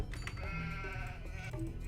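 Sheep in the video game Age of Empires II bleat over steady game music and ambience, a couple of quiet, wavering calls at moderate distance.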